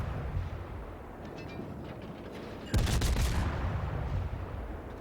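Naval gunfire from warships in the World of Warships video game, a sudden loud, heavy broadside blast about midway that rumbles on for a couple of seconds over a steady background din.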